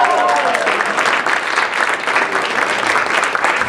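A conference audience claps loudly and steadily for a performer, a dense, sustained round of applause with no break.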